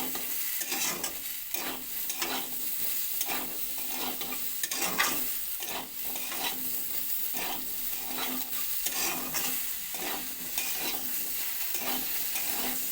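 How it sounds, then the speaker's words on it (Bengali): Tomato and potato sizzle and crackle in a hot pan, with regular scraping strokes of a spatula stirring them throughout. "টমেটোটা যতক্ষণ না একটু ভাজা ভাজা হচ্ছে ততক্ষণ একটু ভেজে নেবে"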